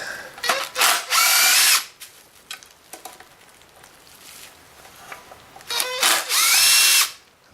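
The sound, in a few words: power drill removing bolts from a Kirby vacuum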